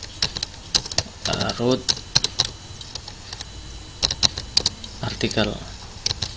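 Code being typed on a computer keyboard: quick bursts of crisp key clicks separated by short pauses, with someone speaking briefly in between.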